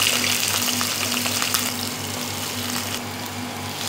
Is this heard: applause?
no